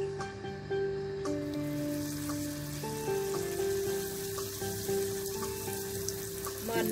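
Corn fritters fry in plenty of hot oil over low heat, a steady close sizzle and crackle with a few brief clinks, and no talk.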